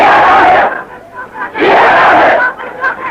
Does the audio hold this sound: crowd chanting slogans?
yes